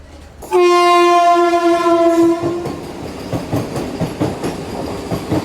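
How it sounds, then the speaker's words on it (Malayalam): A train pulls into a station, sounding a loud, sustained horn blast up close before it gives way to the rhythmic clatter of wheels rolling over rail joints. "ഒരു മണിക്ക് എത്തുന്ന ട്രെയിൻ എങ്ങാണ്ടാണ് ഇപ്പോൾ എത്തിയപ്പോഴത്തേക്ക് ഒന്നേ നാൽപ്പതെങ്ങാണ്ടായി"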